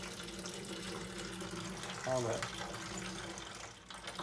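Dirty, carbon-blackened water rinses out of a rock tumbler used to clean brass cartridge cases for reloading, a steady running-water wash with a brief voice over it.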